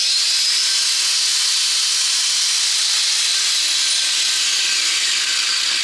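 A DINO belt grinder, just switched on, runs with a steady high whine and airy hiss of the moving belt, constant and close for the whole stretch with no speech.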